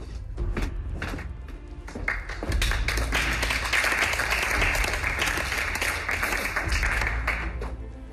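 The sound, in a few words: audience applause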